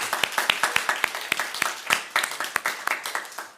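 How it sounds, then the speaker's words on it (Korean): A church youth congregation claps together in a short, lively round of applause, individual hand claps standing out close by over the steady patter of the group. "박수 한번 할까요?"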